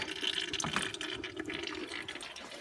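Coolant dribbling from the radiator of a Toyota Corolla Matrix, heard outdoors as a steady trickling, splashing stream of liquid that runs continuously at moderate level without a break.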